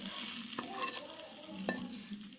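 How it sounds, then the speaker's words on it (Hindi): Browned garlic and cumin tempering poured hot into green chatkhara chutney, crackling and sizzling steadily for a couple of seconds, with a couple of sharp stirring clicks against the pan, close and fairly quiet. "अब इसमें हम तड़का ऐड कर लेते हैं।"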